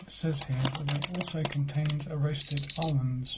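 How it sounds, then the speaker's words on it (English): A timer alarm gives a quick run of high, evenly spaced electronic beeps near the end, sounding over a person talking close by. "Well, that's the alarm to tell me to take the mask off."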